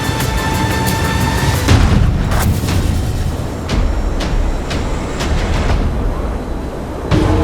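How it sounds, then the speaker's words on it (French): A deep roaring blast from a foundry furnace explosion, followed by rumbling and several sharp booming bursts, loud and chaotic in a large industrial space. "Les explosions de four ne laissent que très peu de chances de survie aux alentours."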